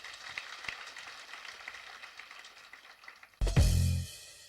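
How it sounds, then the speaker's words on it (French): Students at a lycée school event applaud themselves, a steady spread of clapping for about three seconds that ends in a sudden loud, close burst of noise. "Alors, applaudissez pour vous-même alors."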